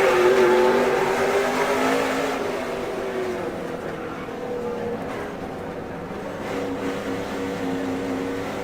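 Onboard a race car at Stafford Motor Speedway in the SRX Series through turns 3 and 4, a loud engine drone held steady with shifting pitch as it powers through the corner.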